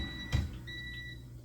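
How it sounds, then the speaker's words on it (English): A kitchen timer beeps faintly a couple of times beside an air fryer, short high tones following a brief knock in a quiet kitchen, with no talk. "that's my timer telling me it's time to check on the air fryer."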